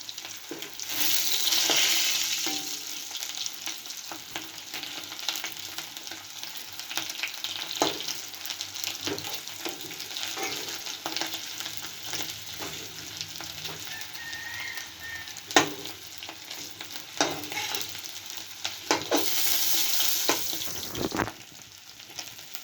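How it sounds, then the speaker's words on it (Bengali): Potato pieces fry in oil in a pan, giving a steady close sizzle with intermittent scraping stirs and a few sharper clicks from a spatula, louder bursts near the start and end. "আলুটা আমার ভাজা হয়ে গেছে, এখন নামিয়ে নেব।"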